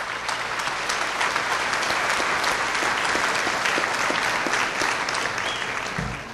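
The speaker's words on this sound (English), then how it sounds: "So give yourselves a round of applause" A large banquet crowd at the 2007 TFR awards gives dense, sustained applause that holds at an even, loud level throughout and eases off slightly at the end.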